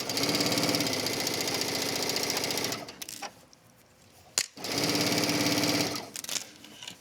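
Sewing machine running a straight stitch on a wrap dress closure, with two steady bursts of rapid needle chatter split by a pause filled with faint handling noise and a sharp click.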